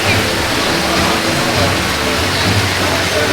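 A steady, loud wash of falling water from the rain effect at Moana Journey of Water, a continuous hiss with no break, heard close by.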